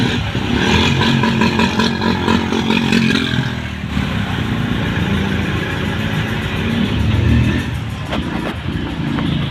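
An auto rickshaw engine buzzes steadily during a ride through town, a close, continuous putter with traffic noise around it and no clear speech.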